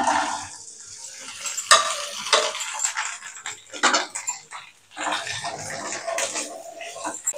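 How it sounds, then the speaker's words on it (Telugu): Okra pieces tip into hot oil in a pan, a loud close burst of clattering and hissing sizzle that surges, briefly fades, then flares again. "కొద్దిగా ఆయిల్ వేడెక్కింది. బెండకాయ ముక్కలు వేస్తున్నాను."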